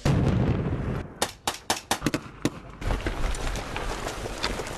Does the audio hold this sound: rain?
no